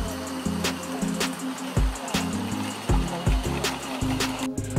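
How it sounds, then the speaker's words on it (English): A coal-fired 45mm gauge miniature steam locomotive pulls away on a garden track, a steady hiss and low mechanical chuffing carrying along with a faint rhythmic beat and occasional sharper clicks. "Now Ian is getting his engine on the move."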